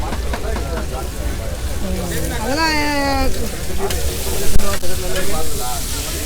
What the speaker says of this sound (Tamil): சுந்தரி அக்கா எறா வறுவல் பண்ணிகிட்ருக்காங்க.